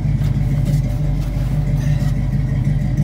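A 1969 Camaro SS350 coupe idles with a deep, steady rumble from its dual exhaust, loud and close, with a faint rise in pitch midway and no voices over it.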